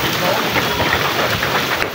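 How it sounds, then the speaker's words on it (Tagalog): Heavy rain pours in a dense, constant hiss close by, steady and loud for the whole moment, with no clear talk above it. "Oh my goodness, ang lakas po ng ulan."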